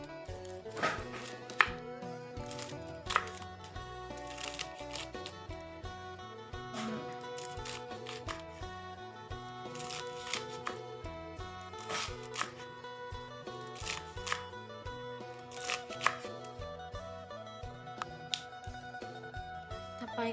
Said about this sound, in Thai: ต่อไปเฮาก็สิมาหั่นหมักถั่วผักยาวเนาะ